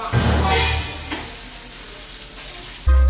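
A turkey patty sizzles in a frying pan with a close, crackling hiss, briefly disturbed by a stir or scrape, then a thump at the end.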